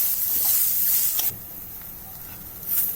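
Dried coconut roasts with onions in a hot pan for misal, giving a loud hissing sizzle that drops abruptly to a quieter fry partway through, then swells briefly again near the end.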